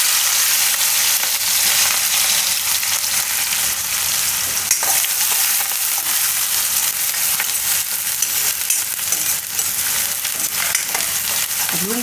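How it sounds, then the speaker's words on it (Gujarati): Asafoetida and chopped green onion fry in hot oil with a loud, steady, dense hiss and sizzle, occasional stirring scrapes in the pan, for winter-style Maggi noodles. "તેલ આપણું ગરમ થઈ ગયું છે. તેમાં આપણે થોડીક નાખીશું હિંગ, અને આ લીલી ડુંગળી"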